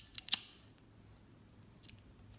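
A quick pair of sharp snips from scissors cutting a fabric scrap for a fuxico patchwork craft, close and crisp, followed by near silence and a faint rustle.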